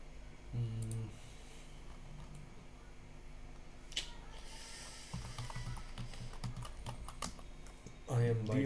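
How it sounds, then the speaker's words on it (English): Computer keyboard typing in a home coding setup, a light patter of clicks running under steady background noise with a few louder thumps at the start and end. "My typing speed is very good."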